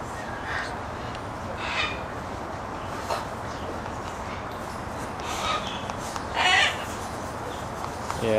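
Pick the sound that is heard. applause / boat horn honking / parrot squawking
parrot squawking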